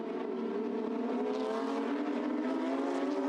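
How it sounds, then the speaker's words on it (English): Porsche 911 race car from the Carrera Cup Asia field at Ningbo, a steady loud engine drone holding close and constant throughout, with a rising and falling tone as it runs past; no voices. "There's the 911 going through."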